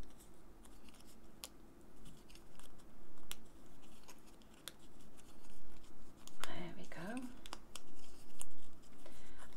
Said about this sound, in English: fold all your score lines.